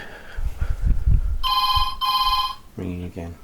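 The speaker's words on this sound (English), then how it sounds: "Ringing again." A landline telephone rings in two electronic trill bursts, followed by a lower-pitched double ring tone, with muffled speech and background noise before the rings.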